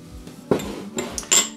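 Saucepan clanking as it is handled while making syrup for rum baba, a few sharp metallic knocks and clinks close by, spaced irregularly over a quiet kitchen background.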